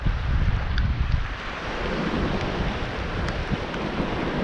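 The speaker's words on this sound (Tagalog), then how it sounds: "Lakas ang hangin mga master." Strong wind roars and buffets the microphone steadily on a rainy island coast, with a low surf-like rumble underneath and no voices.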